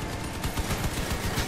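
Rapid, overlapping gunfire from combat vehicles in the video game Crossout, a dense continuous volley of shots at steady loudness with no talking.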